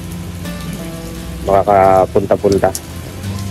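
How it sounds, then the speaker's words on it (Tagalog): Fairly heavy rain falls steadily, a continuous hiss that runs through the whole stretch while someone talks over it. "So medyo malakas ang ulan."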